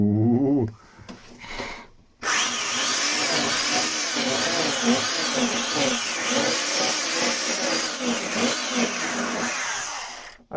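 Belt sander on its low setting with a coarse 40 grit belt, grinding steadily and loudly at close range for several seconds after a short pause, with a rough, scraping texture throughout.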